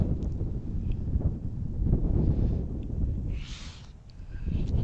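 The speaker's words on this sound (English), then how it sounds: "That wind's basically blowing right in my face." Wind gusts buffet an outdoor microphone beside an airport runway, a low rumbling roar that rises and falls continuously throughout, with a faint higher hiss near the end.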